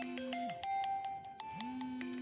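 An electronic phone ringtone plays a repeating melodic pattern of tones, steady and moderately quiet, with no voices, heard during a beer tasting.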